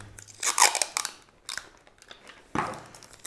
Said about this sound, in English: We'll use a little bit of tape here